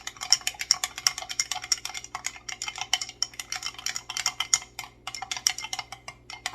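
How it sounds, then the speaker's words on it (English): A spoon stirs homemade chamomile lotion in a jar, a dense run of quick clinking, scraping ticks against the glass, close and fairly soft, with a short pause near the end. "I'm going to stir it again."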